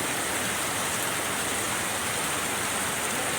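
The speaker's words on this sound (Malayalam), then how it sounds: "ഇടതടവില്ലാതെയാണ് മഴ പെയ്തുകൊണ്ടിരിക്കുന്നത്" Heavy, unbroken rain pours down in Ernakulam, a dense and loud hiss that stays steady throughout with no voices.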